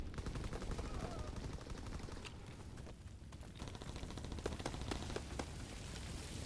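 Gunfire in the video game Call of Duty WW2 on PS4, a steady stream of rapid, crackling shots with bursts layered throughout, loud and continuous from start to finish.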